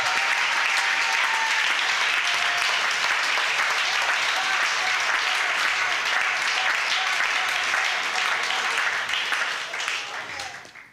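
A church congregation claps and cheers to acclaim Christ, a steady wash of applause with voices mixed in that holds loud throughout and begins to fade near the end.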